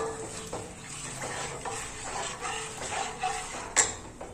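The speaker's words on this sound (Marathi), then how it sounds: "सारखं ढवळत राहा" A spoon scrapes and clinks around a pan as a ragi and coconut mixture with jaggery is stirred, giving soft, irregular scraping with light metallic taps and one sharper clink near the end, close and fairly quiet.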